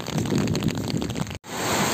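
Heavy rain pours steadily on Eid day, a dense, loud hiss of drops close by with a brief dropout near the end and no voices.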